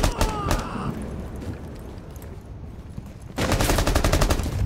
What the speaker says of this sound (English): someone's sniping from round building